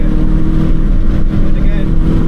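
Proton Satria GTi engine bogging down while driving, a loud continuous low rumble with a steady droning hum that stutters briefly midway, filling the clip alone at close range.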